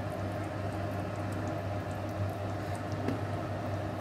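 Mustard tangra fish curry in a pan, a steady close bubbling simmer with a faint splash as mustard oil goes in, no voices.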